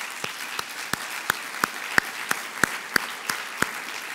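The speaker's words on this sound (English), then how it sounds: "A round of applause for Dick Campbell." Sparse, thin clapping at a fall 2015 college convocation for a capital campaign chair: a few hands beat out about a dozen evenly spaced, crisp claps in a quiet hall, with no voices.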